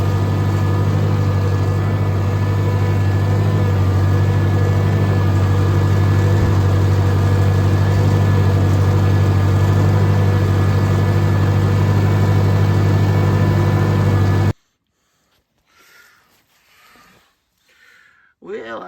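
A farm tractor's engine idles close by with a steady, loud low drone and constant hum for about fourteen seconds, then cuts out abruptly, leaving near silence with a few faint knocks.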